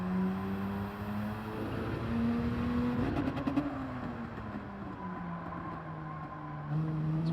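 Engine note of a race car in Gran Turismo 7 during a sim-racing time trial, a steady close drone that climbs and shifts pitch through an early upshift to third, with a brief stutter mid-run and no talk over it.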